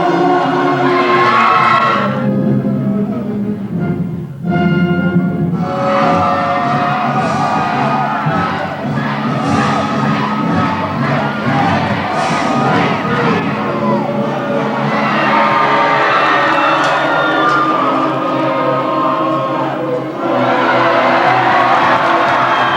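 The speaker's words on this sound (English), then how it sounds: "As participants in a medieval banquet and tournament extravaganza, they cheer their knights on to victory" An audience at a medieval banquet and tournament in Florida cheers, whoops and shouts for jousting knights, a loud, dense crowd roar that swells and rises in waves throughout with many excited voices.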